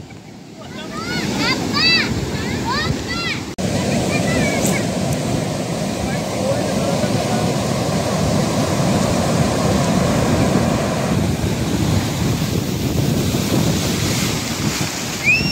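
Sea waves surge and crash at a Karachi beach under heavy wind buffeting the microphone, with rough, strong water rolling continuously near the shore; a voice speaks briefly at the start.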